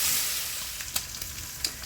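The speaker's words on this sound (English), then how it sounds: "So our bacon is cooked enough." Bacon sizzles in a pan with steady close-up frying hiss, faint crackles and a few small pops scattered through.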